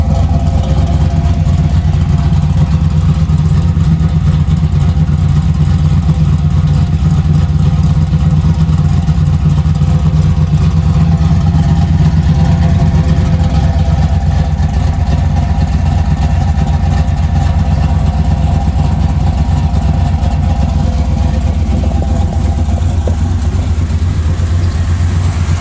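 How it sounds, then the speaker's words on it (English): A 1973 Chevrolet Camaro with dual exhaust idles steadily, a loud, deep, even rumble that holds close and constant for the whole stretch with no talk over it. "Nice sound, dual exhaust."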